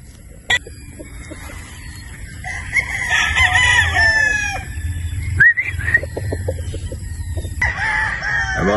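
A game rooster, a Sweater Boston broodstag, crows loudly close by, one long crow followed by a second, with a few clucks and other fowl audible around it.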